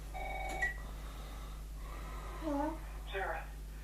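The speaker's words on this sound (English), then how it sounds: "Oh, telephone." Telephone sounds in The Last of Us Remastered video game: tonal beeps and ringing tones over a low steady hum, with a voice briefly heard during the clip.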